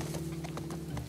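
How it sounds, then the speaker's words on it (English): A horse's hooves clip-clop at a walking rhythm in The Last of Us Part II, faint even steps over a low humming game background. "The horse riding has got a lot better in games these days."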